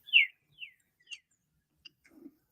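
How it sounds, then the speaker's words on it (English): Sparse, faint bird chirps ring out in a quiet evening setting, a few short high tweets spaced apart followed by a lower soft rustle, with no other noise behind them. "I love the birds chirping in your background, by the way."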